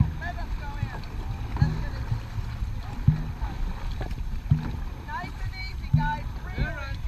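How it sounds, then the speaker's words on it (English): A dragon boat crew paddles during a festival race final, with regular rhythmic strokes and splashes about every 1.5 seconds over wind and water noise, and voices calling out between strokes. "We paddle hard."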